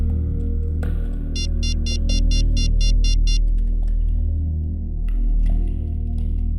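An electronic ringback tone pulses in a rapid series of about ten short bursts on an outgoing phone call, heard close over a low steady hum, followed by quiet clicks.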